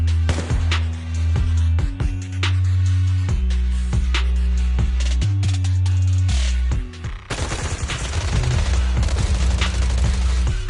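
Rapid automatic gunfire in the video game Zenless Zone Zero, loud sustained bursts with short gaps, then a denser, noisier barrage in the last few seconds, with a heavy low rumble underneath.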